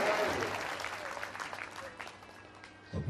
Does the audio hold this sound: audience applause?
yes